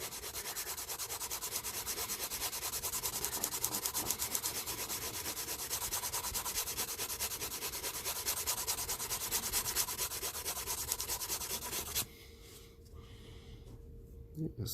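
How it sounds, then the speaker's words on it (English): A Dollar Tree nail buffer rubs rough metal in quick, steady back-and-forth strokes close up for about twelve seconds, then stops abruptly. "It seems to buff up metal really well. Take some of the roughness off of it."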